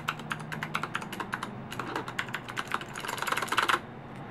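Fast, crisp typing on a Ducky Zero 2108S mechanical keyboard with clicky Cherry MX Blue switches, close and loud, in a steady stream of sharp keystrokes that speeds into a dense flurry before stopping.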